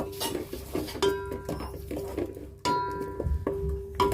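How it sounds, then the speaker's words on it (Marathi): Spiced dry mutton stirred in a metal cooking pot, a spoon scraping and clinking against the sides in irregular strokes, close and fairly loud. "असं आपल्याला ढवळून घ्यायचं आहे सगळं आपलं व्यवस्थित"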